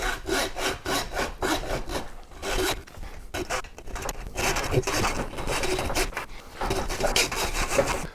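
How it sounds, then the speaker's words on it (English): A hacksaw cuts through a pig shoulder during butchering, giving close, rhythmic rasping strokes that run steadily with brief pauses and no talk. "I'm going to use a hacksaw this time. It'll be a little slower than the sawzall,"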